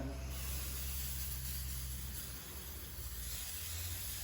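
A steady hiss of coconut oil cooking spray runs continuously for a few seconds, fairly close, with a low hum underneath.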